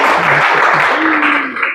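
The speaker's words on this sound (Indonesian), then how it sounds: "Oke, kasih tepuk tangannya dong." Applause in a university teaching session, a loud spread of clapping with a voice talking over it near the end as the noise tails off.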